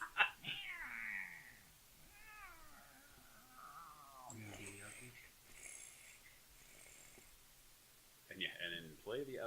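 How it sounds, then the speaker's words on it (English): A cat meows and yowls at several points, mid-distance, interleaved with people talking; the cries come in short, wavering bursts across the stretch. "It's a cat."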